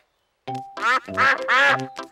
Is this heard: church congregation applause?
no